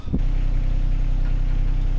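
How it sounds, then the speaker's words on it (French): A diesel engine, just refuelled and re-primed, starting with a brief catch and then idling in a steady low rumble, close and unaccompanied. "On va démarrer le moteur quand même."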